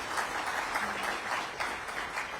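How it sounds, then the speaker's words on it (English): Crowd at a mayoral event in Washington applauds at a distance, a soft, continuous patter of many hands at low volume with no single claps standing out. "Deserves applause."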